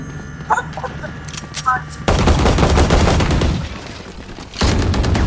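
Rapid bursts of gunfire in the tactical shooter game Valorant, loud dense automatic shots in two clusters separated by a short lull, with a voice talking and exclaiming over the first part.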